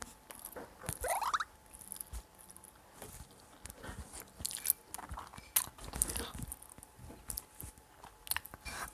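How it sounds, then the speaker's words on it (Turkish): In a mobile game, a bite is followed by chewing as a series of crunchy, irregular clicks and snaps, fairly faint, with a brief rising tone early on. "bir ısırık aldım"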